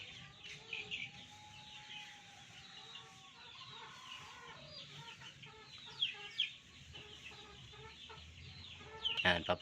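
Chickens and young chicks of a gamefowl breed cluck and cheep steadily with a few louder calls, a busy flock close by, with no talk.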